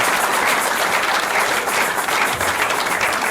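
A church congregation claps loudly and continuously for a few seconds, a dense, even burst of applause from many hands filling a worship hall.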